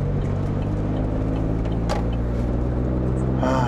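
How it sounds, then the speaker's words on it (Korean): Nissan Maxima with a 3.5 V6 engine and front-wheel drive, over 300 horsepower, driving on the road, a steady low engine and road drone heard from inside the cabin. "엔진을 탔었기 때문에 차는 굉장히 잘 나가요."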